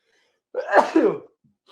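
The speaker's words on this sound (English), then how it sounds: "Hold on, I better sneeze." A single loud, close sneeze bursts out of silence, followed by quiet.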